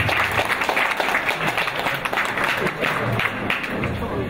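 An audience at a Science Slam event applauds a prize winner with dense, sustained clapping that fills the hall, a continuous wash of claps with a faint crowd murmur underneath.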